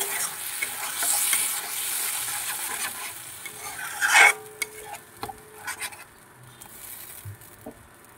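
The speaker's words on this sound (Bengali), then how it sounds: "এবার সব উপকরণের সঙ্গে মিশিয়ে নেব" Ginger, garlic, green chilli and onion paste stirred in a frying pan for a fish curry: a sizzle that softens partway through, followed by scattered scraping and tapping of a spatula against the pan, close and without talk.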